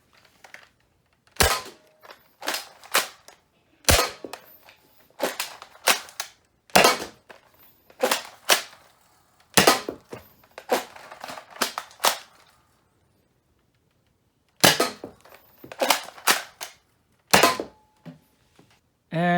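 A FaZe Clan Respawn blaster fires green Adventure Force brain foam rounds in rapid bursts of sharp, close snapping shots, clustered in quick runs with short pauses between volleys and no talking.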